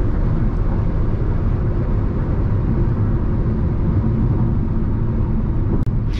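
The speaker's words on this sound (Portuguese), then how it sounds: "Aí vocês vão ver o barulho do vento que vai ficar dentro do carro" Cabin of a Jeep Renegade at about 110 km/h on the highway, a steady broadband roar of wind and road noise, loud and unbroken, with no talking.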